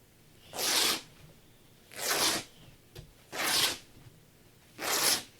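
Fabric tears straight along its grain in four separate rips, each a loud, close, raspy rip lasting under a second, with short pauses between them and no voices.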